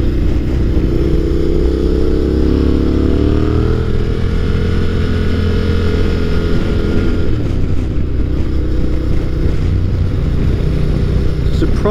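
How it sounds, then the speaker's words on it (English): A Yamaha Tenere 700 motorcycle fitted with an aftermarket exhaust drones steadily while ridden two-up, its engine note rising and settling under constant loud wind rush, close to the rider. "I've noticed no real difference since installing the exhaust"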